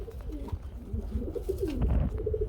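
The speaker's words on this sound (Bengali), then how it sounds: "আমরা এখানে এক জোড়া মুখী কবুতর দেখাবো" Fancy jet-black Mukhi pigeons at a farm coo in soft, rolling, repeated phrases, close and fairly steady throughout, with no talking.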